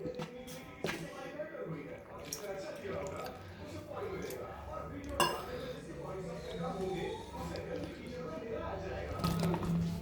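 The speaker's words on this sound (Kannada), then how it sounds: "ಚೆನ್ನಾಗಿ ನೀರು ಹಾಕಿ ಮಿಕ್ಸ್ ಮಾಡ್ಕೋಬೇಕು. ಬೋಂಡ ಹಿಟ್ಟಿನ ಅದಕ್ಕೆ ಮಿಕ್ಸ್ ಮಾಡಿ" Bonda flour batter is mixed with water in a bowl by hand, giving soft wet squishes and occasional clinks of a utensil against the bowl, with a person speaking over the sound.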